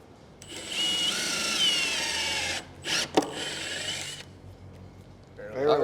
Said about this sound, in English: Just keep drilling.